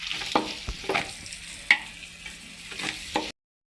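Onions, tomatoes and green chilies fry in a pan for chicken biryani, a soft steady sizzle punctuated by several sharp spatula knocks and scrapes before cutting to silence.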